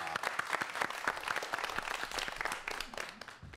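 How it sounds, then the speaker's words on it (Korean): An audience applauds to welcome a lecturer onto the stage at a virtual reality talk, dense steady clapping from many hands filling the room, sustained and fairly loud throughout before tapering slightly at the end. "최정화 본부장님의 강연 들어보겠습니다. 박수 부탁드립니다"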